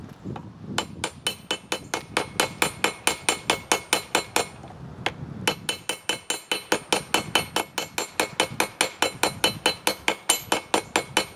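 Steel billet for Damascus being forge welded under a hammer in a propane forge, struck in steady, ringing blows close by, with a brief pause before the rhythmic pounding resumes and speeds up.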